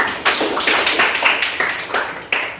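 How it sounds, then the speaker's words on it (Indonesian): Classroom applause for a classmate, a short patter of light claps from a small group, moderately close and uneven, with no talking over it. "Berikan aplaus ya untuk temannya."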